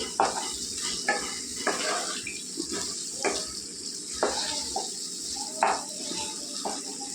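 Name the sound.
stirring fish pieces cooking in oil in a pan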